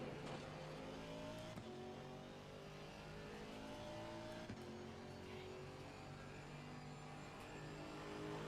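GT race cars running on the Imola circuit during a GT World Challenge America race, with a faster Ferrari closing from behind; a steady, dense engine roar with rising and falling revs throughout, fairly loud, with no talking.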